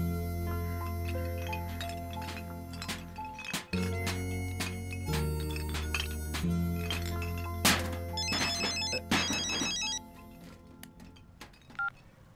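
A telephone ringtone in a Hindi-dubbed South Indian feature film plays a tonal, repeating electronic melody with regular pulses, fairly clear over a faint background with no talking.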